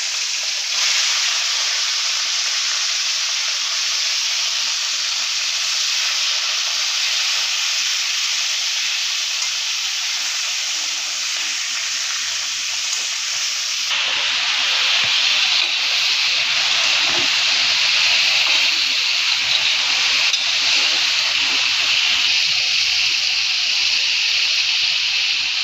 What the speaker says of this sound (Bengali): গরম হয়ে গেছে, এবার মাছগুলোকে ভেজে নিচ্ছি।